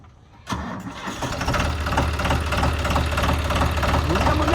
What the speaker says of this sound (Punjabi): ਟਰੈਕਟਰ ਦੀ ਸਟਾਰਟ ਕਰ ਸਟਾਰਟ ਕਰ ਦੇ